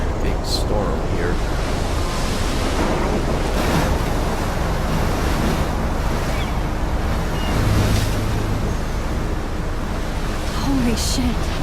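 Storm wind roaring over crashing ocean waves in Life Is Strange, a loud, continuous wash of surf and gusting air that stays dense and steady for the whole stretch.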